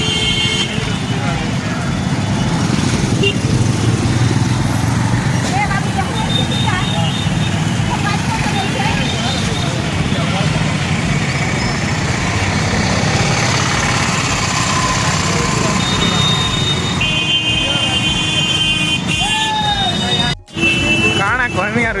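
Vehicles sit jammed in traffic at the crowded Harishankar Baishakh fair, engines idling and rumbling steadily close by beneath a noisy crowd, while someone talks excitedly over it throughout.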